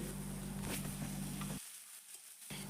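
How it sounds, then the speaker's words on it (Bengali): Chopped onion frying lightly in oil for sambar, a steady close sizzle with a low hum that cuts out abruptly partway, then resumes briefly at the end. "হালকাভাবে পেঁয়াজটাকে তেলের মধ্যে ভেজে নিতে হবে"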